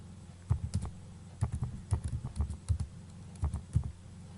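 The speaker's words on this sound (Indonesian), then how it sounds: "ketikkan sebuah kata atau kalimat sembarang" Keystrokes on a computer keyboard tapped in quick, uneven bursts, close and fairly quiet, with short pauses between runs of clicks.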